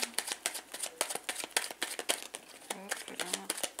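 Tarot cards are cut and shuffled by hand, a quick, close run of crisp riffling slaps and flicks, with brief speech at moments.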